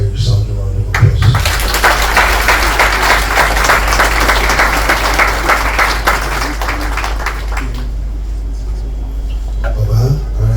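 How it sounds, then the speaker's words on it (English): An event crowd gives a loud, sustained round of applause for Obasanjo at Dele Momodu's 65th birthday celebration, dense clapping under a constant low hum, tapering off near the end as voices return. "Please, I want you all to give Baba a resounding round of applause."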